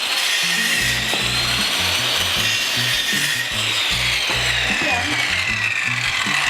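A saw cuts through wood in steady back-and-forth strokes, loud and close, with a rasping, scraping texture and rhythmic low thumps throughout, and no voices.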